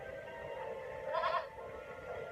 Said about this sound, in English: What are goats doing in a place like this?